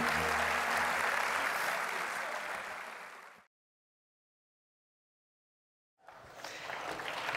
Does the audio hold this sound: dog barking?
no